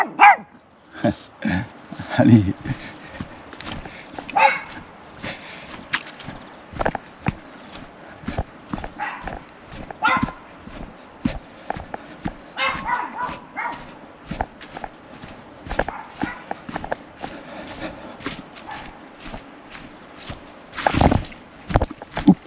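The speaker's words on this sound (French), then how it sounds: "Ah, on est accueilli par les petits chiens." Small dogs bark excitedly in greeting along a hiking trail, sharp repeated yaps and barks scattered throughout alongside footsteps, with a person speaking briefly nearby.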